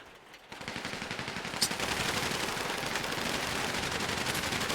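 Rapid automatic gunfire from teammates in a multiplayer shooter game, a dense, continuous rattle of shots that starts after a brief quiet moment and holds steady at moderate loudness, with no talking.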